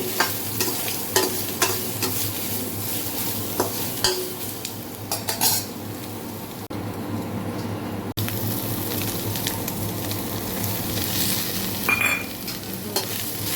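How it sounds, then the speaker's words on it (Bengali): Soybean chunks and potatoes lightly frying in a pan, a steady close sizzle with repeated scraping stirs and occasional utensil clinks throughout. "এখন আমি সয়াবিনটা দিয়ে দিলাম, এটা একটু হালকা ফ্রাই করে নিচ্ছি পাশাপাশি।"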